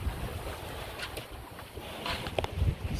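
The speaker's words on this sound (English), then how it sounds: "We sail along at about 5 knots. Got the motors off. Got the main down, so this is our only power" A sailboat glides at about five knots under a single sail with its motors off, giving a steady wash of wind and water with faint splashes and gusts, and no engine sound.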